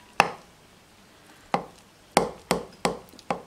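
Sourdough starter fed with white flour being stirred in a container, heard as six sharp, close scraping knocks spaced irregularly, with no voices.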